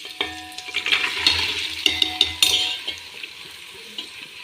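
Vegetables frying in a pan, a close sizzle with a burst of spatula scrapes and clinks against the metal that eases into a softer hiss.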